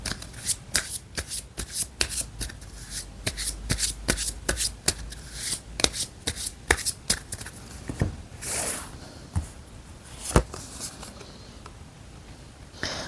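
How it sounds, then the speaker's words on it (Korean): Tarot cards being shuffled and drawn, a steady run of close, crisp riffling flicks and slaps continuing for several seconds without speech. "그럼 마지막으로 좋은 카드 하나 더 뽑아볼게요."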